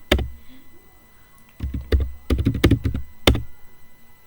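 Keystrokes on a computer keyboard while entering the exit command in a Cisco router configuration session: a single tap, a pause, then a quick run of several clacking presses ending in one firm keystroke, close and clear with no talk.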